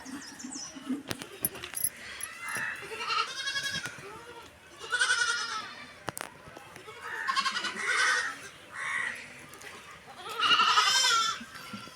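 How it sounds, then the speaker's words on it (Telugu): Goats bleat repeatedly and fairly close as they are herded in and tied up, the calls coming in several wavering bursts mixed with people talking nearby. "మేకలను అయితే తోలుకొచ్చి కట్టేస్తున్నాడండి చూడండి."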